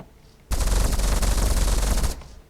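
Advanced cannon in the game From the Depths firing in a fast autoloaded burst, a dense, loud, continuous rattle of rapid shots lasting about a second and a half before cutting off into quiet.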